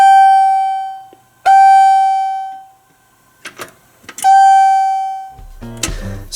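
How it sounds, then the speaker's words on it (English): An elevator call button panel rings a chime when its buttons are pushed, striking clear, loud, close bell-like tones three times. Each tone rings out and decays for about a second, separated by clicks and handling noises, with a rattle at the end. "So when you push the buttons, it rings a chime."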